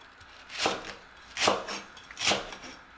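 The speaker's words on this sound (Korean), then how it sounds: "대파는 어슷썰기로 준비합니다" A knife slices green onion diagonally on a cutting board for sundae bokkeum, with three distinct close chopping strokes spaced about a second apart over a quiet background.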